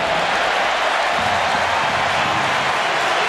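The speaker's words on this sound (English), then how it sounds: "the cheer you can hear is because Luis Suarez is coming out to warm up as well." A stadium crowd at a Barcelona versus Arsenal football match for the Joan Gamper Trophy gives off a steady, distant wash of cheering and roar that holds level and unbroken throughout.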